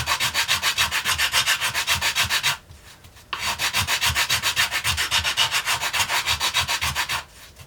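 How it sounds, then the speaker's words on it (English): Hand sanding of wooden top braces, steady rhythmic back-and-forth rubbing strokes, loud and close, with one short pause before the strokes resume. "I'm just going to start wasting away wood here. I'm going to just sand this to smooth these two guys down."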